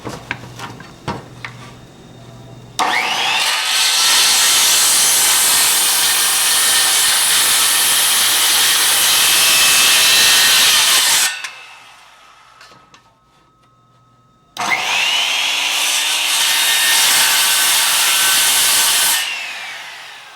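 A power saw cuts multiple bird mouths into wooden rafters in two loud, sustained bursts, the first running about eight seconds and the second about five, separated by a short quiet gap, with some brief handling noise before the first cut.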